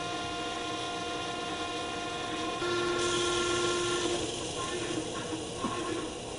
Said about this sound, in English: turn the filter machine on by flipping the toggle switch up